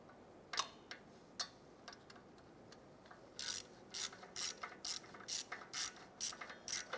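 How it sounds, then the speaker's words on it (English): A ratchet with a 13mm socket on an extension and swivel loosens a bolt behind the exhaust of a Cadillac Escalade, giving a few scattered clicks and then a steady run of quick, crisp ratcheting strokes, close but fairly soft. "Using a 13mm socket, 1/4 inch with a swivel and extension. I'll go ahead and loosen that bolt."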